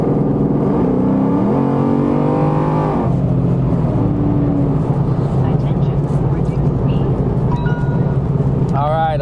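Ford Fox-body Mustang with a Coyote V8 engine swap accelerating in sport mode, a loud rising engine roar heard from inside the car with shifting pitch sweeps, under a voice talking.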